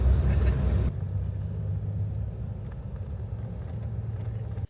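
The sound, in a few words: overnight sleeper bus driving from Hanoi to Ha Giang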